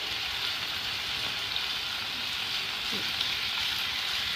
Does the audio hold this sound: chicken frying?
yes